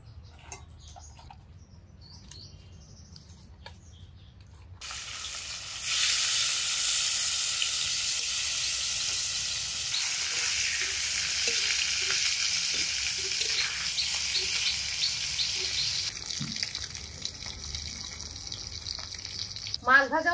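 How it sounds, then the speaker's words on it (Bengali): Pieces of deshi rui fish rubbed with salt and turmeric hit hot oil in a kadai, and a loud, steady sizzle begins partway in and continues to the end after a quiet start. "মাছ ভাজাও হয়ে গেল, এখন নামিয়ে দিয়ে কড়াইটা নিয়ে রেখে দেবো।"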